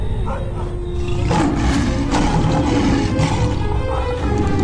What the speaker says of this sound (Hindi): ये तो शेर की आवाज है।